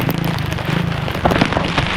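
Sudden rain pelts down during a motorcycle road trip, a dense loud crackle of drops striking close to the recorder with a continuous patter and scattered sharper hits.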